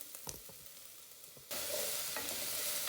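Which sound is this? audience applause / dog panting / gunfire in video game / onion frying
onion frying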